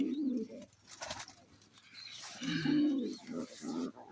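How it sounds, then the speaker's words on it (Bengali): Lotan pigeons coo inside a pigeon loft, with several deep, rolling coos in bursts close to the listener and brief gaps between them. "এখানে আমার আরেক জোড়া লোটনের পেয়ার রয়েছে"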